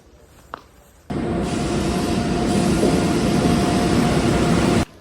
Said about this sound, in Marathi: तुम्ही पाहू शकते ट्रेन आलेली आहे